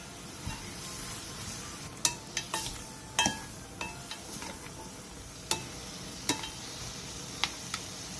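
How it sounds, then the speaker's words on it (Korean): Beef is stir-fried with a little water in a pot, a soft low sizzle under sharp clinks and scrapes of a utensil against the metal, quiet and close with no speech. "소고기의 겉면이 어느 정도 익으면 물을 넣고 1분 정도 가볍게 볶아주세요."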